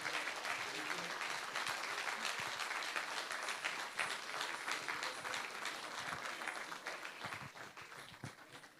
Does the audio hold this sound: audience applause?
yes